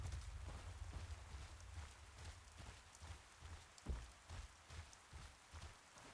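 Soft, steady rain in the video game Throne and Liberty patters across a surface, quiet and continuous, with a low rumbling wash underneath and no voices.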